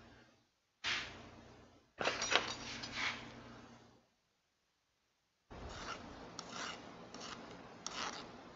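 Metal file rasping burrs off a handle, a few separate bouts of scraping strokes with silent gaps between them, close and fairly clear.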